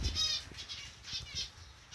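A canary's wings flutter in several quick bursts, soft and close, with faint background noise and no voices.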